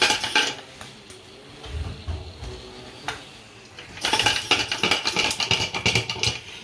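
Cooked chicken shaken hard in a container to shred it, a burst of rattling thuds at the start, a quieter pause, then a long loud run of rapid clattering knocks.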